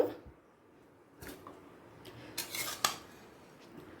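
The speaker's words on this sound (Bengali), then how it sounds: "এবার অন্য পাত্রে ঢেলে নেব" Freshly cooked potato curry is scraped and poured from the pan into another pot, with soft metallic scrapes and a couple of sharper clinks of a spoon against the vessel, fairly quiet and close.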